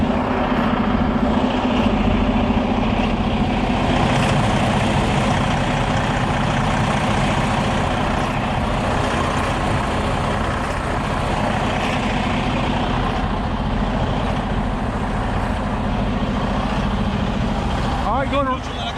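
A mulch truck's engine idles in neutral at a muddy site, a loud steady low rumble running the whole time with voices talking over it.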